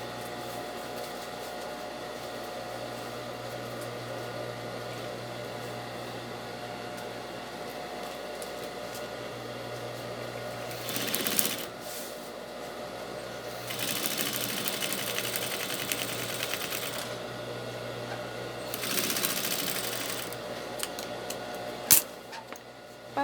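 Sewing machine running steadily while stitching a close seam along the edge of fabric lining over EVA foam, a continuous hum with a few louder bursts of faster stitching near the end, no voices.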